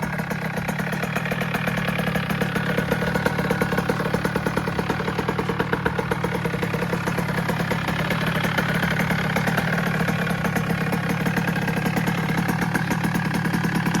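A motorcycle engine fitted with a new 86 cc Most cylinder runs steadily for the whole stretch, a loud, close, rapid pulsing idle with no voices.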